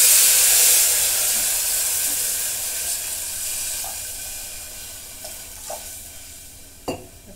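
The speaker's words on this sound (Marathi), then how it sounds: "त्याच्यामध्ये पाणी ओतून घेते." Water poured into a pot of hot tempering with curry leaves, asafoetida and turmeric sets off a loud hissing sizzle that slowly fades, with a few faint clinks near the end.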